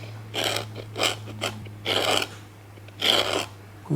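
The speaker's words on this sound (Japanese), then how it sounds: "皮をガリガリ削って広げて" Hand tool rasping a stitch groove into the leather sole of an olive full-brogue shoe, several short gritty scraping strokes in irregular bursts, close and fairly loud over a steady low hum.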